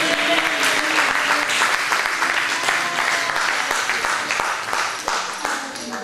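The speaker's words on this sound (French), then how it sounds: "On acclame pour la parole du Seigneur." A church congregation at a Pentecost service claps loudly and briskly, dense near applause that fades slightly toward the end.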